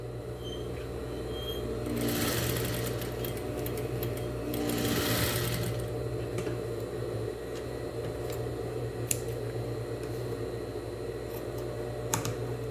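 A sewing machine stitches along the top of a cotton dish towel, its steady motor whir running continuously with two louder surges of fast stitching, close and clear with no talk.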